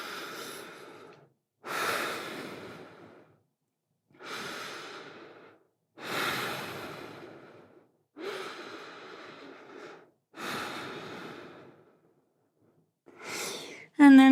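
Slow, deep breaths during yoga child's pose, six long exhales at even intervals with silent pauses between, close and fairly loud, with no talking.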